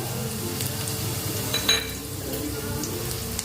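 Curry leaves drop into small potato pieces frying in a pan, giving a brief louder crackle over a steady sizzle, with faint clinks of utensils; no voices.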